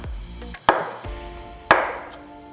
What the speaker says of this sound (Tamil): அடுத்து ஒரு வாழைப்பழத்தை நறுக்க போகிறேன். இதையும் சின்ன துண்டுகளாக கட் பண்ணி எடுத்து வைங்க.